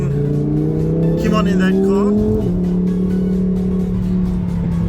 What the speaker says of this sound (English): We are in a Huracan Performante